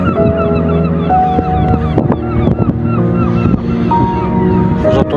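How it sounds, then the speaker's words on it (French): Seagulls call repeatedly by the sea at Cancale, their cries rising and falling over one another against a steady, loud background of wind and surf. "Vous entendez les mouettes, les oiseaux."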